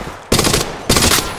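Two loud, close bursts of rapid automatic gunfire in Apex Legends Mobile, each a dense rattling volley lasting about a third of a second, separated by a brief pause.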